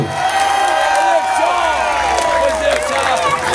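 A large outdoor crowd at a political rally cheers and applauds members of the National Assembly, a dense, loud wash of clapping and shouting voices close to the microphone.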